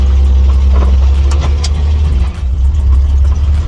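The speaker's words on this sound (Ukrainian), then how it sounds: "в салоні дійсно шумновато від цього мотору" A 1954 GAZ M-20 Pobeda with a 2.9-litre engine and manual gearbox drones loudly inside the cabin while driving, a steady deep rumble with slight changes in load and no talk.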